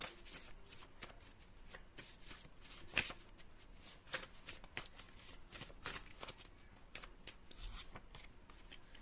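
Tarot cards being shuffled by hand during a reading: a soft, quiet run of rapid riffling flutters and taps that carries on steadily throughout.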